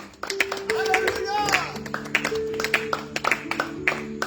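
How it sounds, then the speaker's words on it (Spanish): A church congregation claps in rhythm during a Spanish-language worship service, sharp repeated hand strikes over sustained keyboard or organ tones, with a voice briefly heard among the music. "Dele palmas a Cristo."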